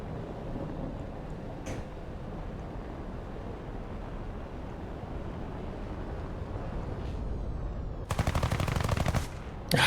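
Aircraft guns firing in War Thunder: one loud burst of rapid fire lasting about a second near the end, over a steady low engine drone.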